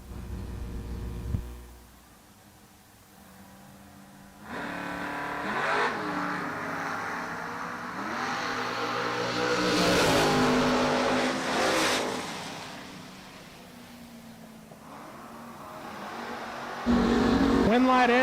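A Camaro and a Corvette Roadster launch in a drag race, engines rising to a loud roar, then surging and fading, with a commentator talking over the sound.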